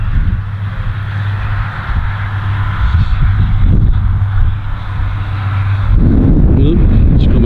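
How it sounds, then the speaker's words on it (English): Wind blows across an open farm, a steady low rumbling buffet of gusts against the microphone that swells and eases throughout, growing rougher near the end. "It's got windy there."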